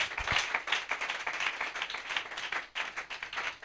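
Congregation in a church service clapping together in praise, a dense steady patter of many hands with a brief dip near the end, moderately distant and without speech.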